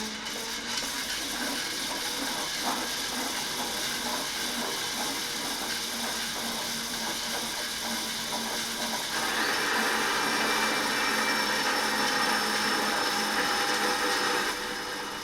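A stripped-down flywheel, part of a human-powered emergency USB generator, spins on its cleaned and oiled chain with a continuous close whirring mechanical hum that shifts slightly in pitch partway through, no talking.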